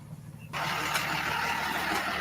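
A truck engine starts up and runs at a steady idle, close and fairly loud, its broad mechanical rumble filling the last part after a brief quiet moment.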